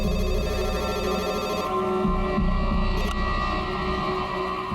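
A mobile phone rings steadily indoors, a loud, continuous electronic tone with a low hum beneath it, and no voices over it.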